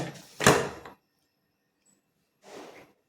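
A single short clatter of a lid set onto a pot of tomato rice, followed by silence and then a softer scrape or rattle.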